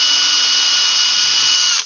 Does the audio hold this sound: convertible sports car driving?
no